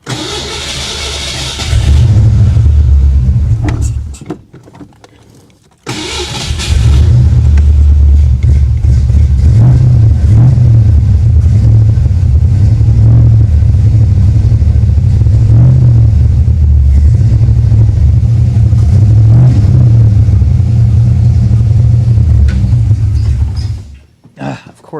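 A 1989 Ford Mustang GT engine turns over and catches, stumbles and cuts briefly, then restarts and runs loud and steady with strong low rumble and occasional revs for about twenty seconds before shutting off.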